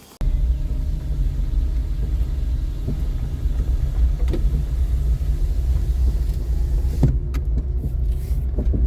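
Car carrying a captured bee swarm, engine rumbling steadily and close throughout with a few faint knocks and clicks, no talk.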